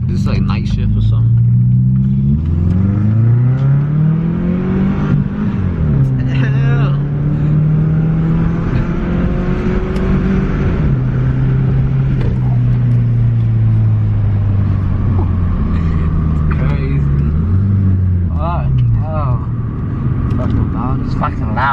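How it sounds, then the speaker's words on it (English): A Subaru Impreza 2.5 RS with its muffler deleted runs loud and raspy, its engine note rising and falling through repeated revs and passes, with voices talking over it. "so he did a muffler delete on his car, bro."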